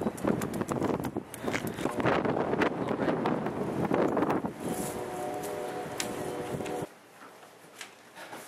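Strong gusts of wind buffet the microphone with loud rumbling bursts, then ease off, leaving a faint hum and quieter outdoor air.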